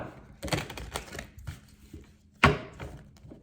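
A tarot card deck being shuffled by hand, giving soft papery riffles and flutters with a couple of sharper snaps, close and fairly quiet with gaps between bursts.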